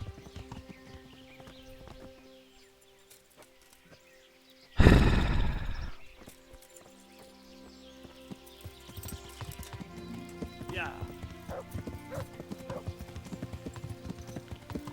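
Horse hooves clop along at a steady pace in the medieval video game Kingdom Come Deliverance, broken midway by a loud heavy thud, then trotting resumes alongside faint game noises.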